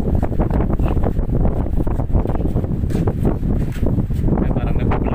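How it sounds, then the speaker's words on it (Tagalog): Wind gusting across an island at night, a steady broadband rush with rustling buffets against the microphone and no voices. "medyo mahangin lang."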